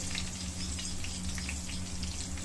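Food frying in well-heated oil gives a steady, dense sizzle with scattered pops and crackles throughout, close and continuous with no talking.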